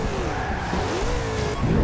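Tires skid and squeal from a car in the racing game Forza Horizon 2, a continuous loud screech mixed with engine roar lasting the whole moment.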